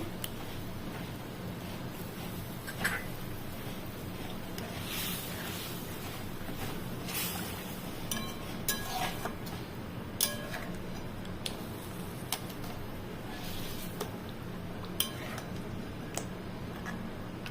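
Thick, large pieces of bhetki fish are stirred and turned over in a pan, giving soft, irregular clicks and scrapes over a low, steady sizzle, with no one talking.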